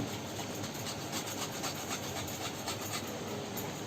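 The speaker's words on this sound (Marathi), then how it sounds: "थोडासा जायफळ किसून टाकते त्याच्यामध्ये" Nutmeg is grated in a home kitchen with quick, continuous rasping strokes, close and fairly even in rhythm for several seconds.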